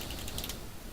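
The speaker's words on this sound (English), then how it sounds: "I love typing it out." Fast keyboard typing while entering HTML code on a computer, a close, steady run of soft clicks with no voice.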